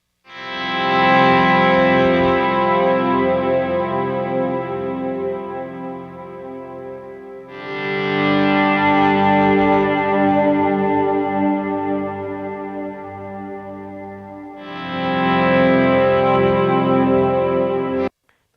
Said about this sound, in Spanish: escuchemos esos swells ahora con menos del micrófono de cinta